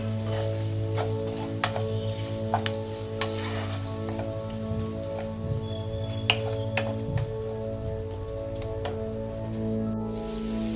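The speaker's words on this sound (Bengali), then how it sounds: "এটা ভালো করে একটু কষে নেব। সামান্য একটু জল দিচ্ছি।" Egg biryani masala being sautéed in a pan with a splash of water, giving a steady sizzle with repeated scraping stir strokes and spoon taps throughout, fairly close and loud, with no talking.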